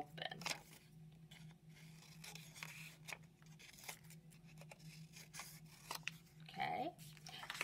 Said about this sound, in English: Remember, it helps if you open your scissors all the way.